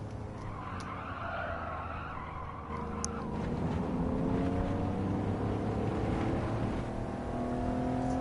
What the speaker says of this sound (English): Braking for the first corner.